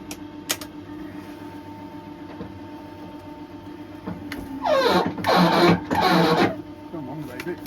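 A stitching machine sewing the new sole onto an RM Williams Gardner Chelsea boot during a sole conversion: a rapid, rattling mechanical whir in a few short bursts near the end, loud and close, following someone talking over workshop hum.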